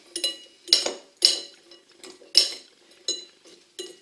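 A spoon tosses red cabbage salad with lemon in a bowl, making about seven sharp clinks against the dish at irregular intervals, each followed by a soft rustle of the shredded leaves.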